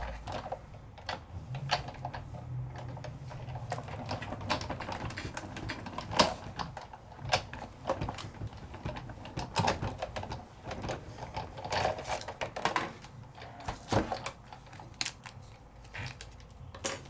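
A die-cutting machine presses a Merry and Bright Christmas die through a precision base plate, giving a quiet run of clicking, ratcheting mechanical clacks and thumps with no talk.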